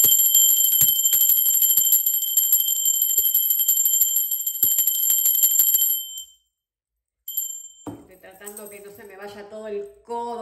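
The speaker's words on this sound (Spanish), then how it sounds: "Va campana, va campana." A bell rung during a Spanish-language tarot card reading, a sustained high ringing for about six seconds, then a brief short ring, followed by a person speaking.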